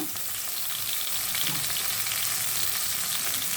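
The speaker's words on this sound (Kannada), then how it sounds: "ಇದನ್ನು ಸ್ವಲ್ಪ ಚೆನ್ನಾಗಿ ಆಯಲಲ್ಲಿ ಫ್ರೈ ಮಾಡಬೇಕು" Chopped fenugreek leaves frying with onion in hot oil in a pan, giving a loud, steady, close sizzle that carries on without a break and with no voices.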